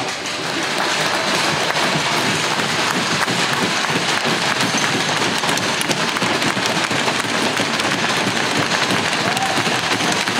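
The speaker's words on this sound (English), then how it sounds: "put your hands together and cheer to let them know" Loud, dense applause and cheering from an arena crowd at a junior hockey memorial game, sustained for the whole stretch with crackling, rain-like claps and whoops.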